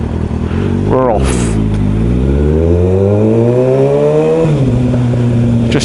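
A Kawasaki ZX6R motorcycle pulls away from traffic lights, engine revving hard and climbing through a gear change then another, loud and close with wind noise throughout.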